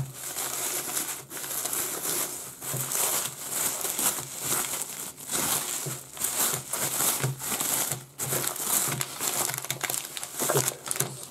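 A small plastic packaging bag holding a battery and charger for a Xiaomi Yi camera is crinkled and handled close up. Dense, continuous rustling and crackling runs throughout with a few brief pauses, and no talking is heard.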